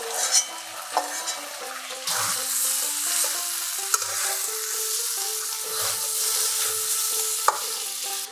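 Fried eggplant is tossed into a pan of sizzling vegetables and stirred. A steady crackling fry runs throughout, with sharp scrapes of the spatula and occasional light knocks against the pan, under soft background music.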